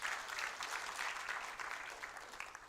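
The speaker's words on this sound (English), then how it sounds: "Can we give them another round of applause" An audience at a science conference claps in a dense, continuous round of applause that fades a little toward the end.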